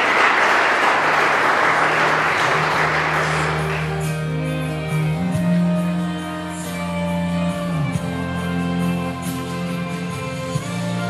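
Wedding guests at a traditional Vietnamese wedding give a loud, sustained round of applause for the two families, a dense clapping wash that fades after a few seconds into music with steady tones.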